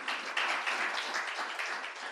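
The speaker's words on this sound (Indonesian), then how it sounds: "Tepuk tangan buat Tuhan." A church congregation at a Sunday worship service breaks into sustained applause, a dense wash of many hands clapping in a large room, fairly distant and even for the whole stretch.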